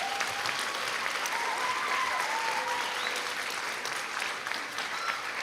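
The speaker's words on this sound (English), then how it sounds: "let's give another round of applause for those students." Audience applause for orchestra students at a school pop hits concert, a continuous even wash of clapping from a large crowd, somewhat distant, with a few faint tonal sounds drifting through.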